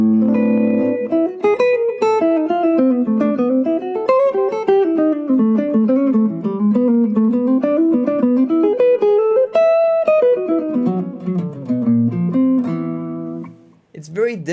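An electric guitar plays a flowing pentatonic blues-jazz line with added half-step leading tones, a continuous run of clear single notes that rise and fall for about fourteen seconds, with no talking over it.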